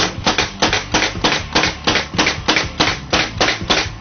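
A brad nailer driven by a Rolair air compressor fires about a dozen nails in a quick, steady rhythm, each shot a sharp, loud pneumatic snap with a short hiss, close up and with no talk.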